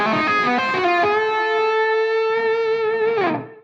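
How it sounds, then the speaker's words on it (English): A guitar runs through the diminished scale (Messiaen mode 2) with a distorted, effects-laden tone, climbing quickly and then holding a long ringing note that bends down before cutting off, loud and alone. "So of course that sound was the diminished scale"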